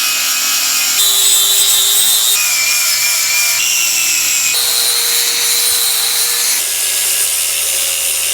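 Wooden bumper on a 1966 Land Rover being sanded smooth, a continuous close rasping rub that shifts pitch in several stretches as strokes and pressure change, loud and alone.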